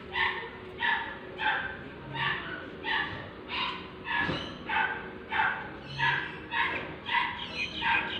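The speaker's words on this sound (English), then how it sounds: "Oh, those poor dogs opposite. What is happening to them? Listen to that barking." Dogs across the street bark repeatedly, a steady rhythmic series of about a dozen distant, somewhat muffled barks and yips at even intervals.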